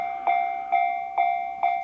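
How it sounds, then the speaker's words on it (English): Japanese railway crossing signal ringing as a train passes, four evenly spaced metallic dings with sustained tones, loud and close. "So the first sound here is just the train passing."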